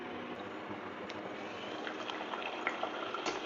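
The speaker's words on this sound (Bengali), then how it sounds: "ফ্রেশ কড়াইশুটির কচুরি ভাজা হচ্ছে" Fresh green pea kachoris fry in very hot oil, making a steady, bubbling sizzle throughout with faint pops, close and at moderate volume, with no talk.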